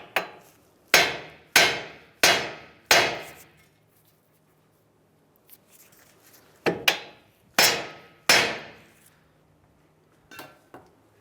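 Hammer blows against a steering knuckle to free a tie rod end on a 2007-2015 Mazda CX-9, four sharp ringing metallic strikes in steady rhythm, a pause, then three more and two lighter taps, close and loud.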